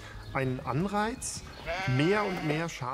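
Sheep in a meadow shared by several herds bleat repeatedly, loud and close, the wavering calls overlapping one another.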